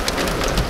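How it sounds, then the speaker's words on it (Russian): Heavy hail pounds down in a dense, steady clatter, a loud continuous drumming with scattered sharper impacts. "лупит градина."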